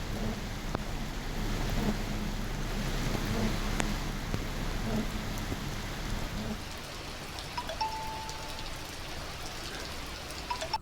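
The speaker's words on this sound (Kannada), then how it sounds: "ಕೊಡಗು ಜಿಲ್ಲೆಯ ವಿವಿಧ ಕಡೆಗಳಲ್ಲಿ ನಿನ್ನೆ ಭಾರೀ ಮಳೆ ಆಗಿದೆ" Heavy rain pours steadily in Kodagu as a dense, even hiss of drops hitting surfaces, with a few sharper knocks standing out over the constant wash.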